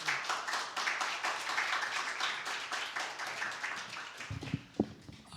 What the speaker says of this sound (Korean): 우리 서재숙 대표님 나오실 때 큰 박수로 이렇게 환영해 주시면 감사하겠습니다